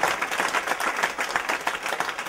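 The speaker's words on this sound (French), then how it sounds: "Je crois qu'on peut les applaudir." Audience applause breaks out in a concert hall at an international gospel and Negro spiritual festival in Chartres, thanking the sound technicians: a dense, steady patter of many hands clapping together, with no gaps, for a couple of seconds.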